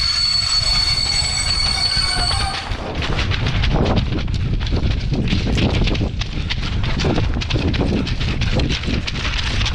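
Train rolling past close by with heavy rhythmic clacking of wheels over rail joints, a loud continuous rumble with faint squealing.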